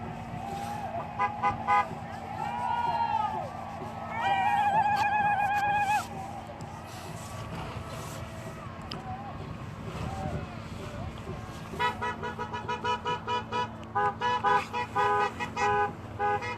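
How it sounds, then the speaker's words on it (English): Car horns honk repeatedly over steady road traffic at a Dakota Access Pipeline protest, with a burst of rapid, stuttering toots near the end and faint voices in the background. "The noise you hear is people going back in cars for medical"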